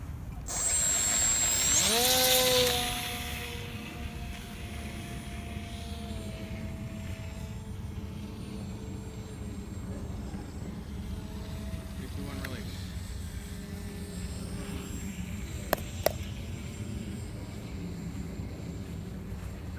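A homemade RC glider airplane passes with a loud whooshing, whining drone near the start, then fades into a lower steady hum for the rest, with a couple of sharp clicks late on.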